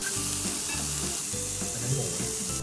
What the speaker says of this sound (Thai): พอมันเป็นเตาไฟฟ้าก็ค่อนข้างจะสุกเร็วเวลาย่างเนื้อเนี่ยโอ้สุกเร็วเลยอ่ะ